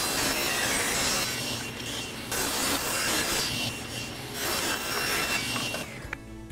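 Saw ripping a miter along the edge of a board, a continuous loud rasping whine in steady passes that cuts off near the end, close with no talk.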